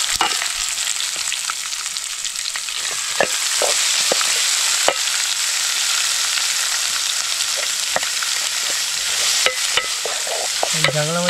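Onions frying in a pan at a night campsite in the forest, a loud continuous sizzle with frequent stirring clicks and scrapes throughout, no one talking.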